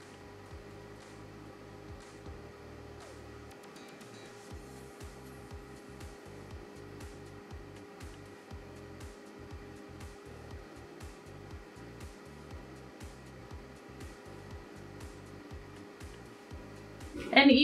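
A blow dryer runs steadily while a show dog is dried during grooming, a constant close whir with small fluctuations throughout and a brief louder burst at the end.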